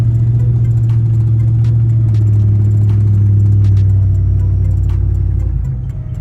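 A 2005 Chevy Silverado truck drives with a steady, loud low engine drone and road rumble, shaking noticeably, with faint clattering throughout and a slight drop near the end.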